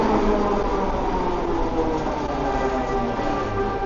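An old Mark 1 train passes close by in Vancouver, a dense steady rumble and rolling roar filling the whole stretch with no voices.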